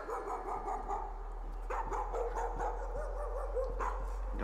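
A dog in the horror video game Layers of Fear barks repeatedly in short, fairly quick bursts over a steady low hum, sounding moderately close but quiet overall.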